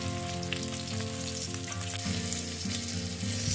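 Fish fries in hot oil in a pan, a loud, continuous crackling sizzle close up, steady throughout, over a low constant hum.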